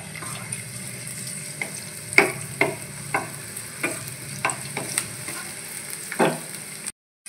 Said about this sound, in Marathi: लसूण हलवून घ्यायचा